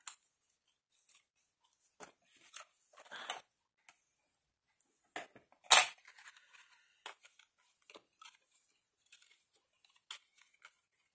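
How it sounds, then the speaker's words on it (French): Scissors cutting straight lines in cardboard while making a bead storage box, heard as sparse, faint, crisp snips and clicks spread across quiet pauses, with one louder snip partway through and no talk. "Voilà, là je coupe tout droit."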